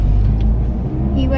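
A car sweeps fast around a roadside corner, its engine and tyre noise forming a loud, steady rumble close by for the whole moment.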